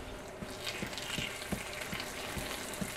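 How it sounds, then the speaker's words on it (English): Sage leaves crisping in butter in a pan, giving a steady close sizzle with a regular series of light taps, likely from a utensil, throughout. "I can tell the sage is starting to"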